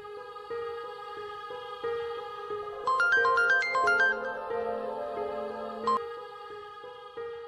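A mobile phone plays a melodic ringtone for an incoming call. Repeating electronic tones pulse at a steady rhythm, a brighter run of notes rises midway, and the ring is clear and close with no speech over it.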